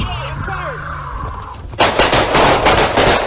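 Rapid bursts of gunfire erupt loud and close during a police arrest of a fleeing armed fugitive, following shouting voices and radio chatter.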